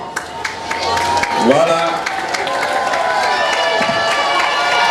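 An audience at a school event applauds the parents, with sustained clapping and some cheering that swells after a short spoken word from the announcer and then holds steady.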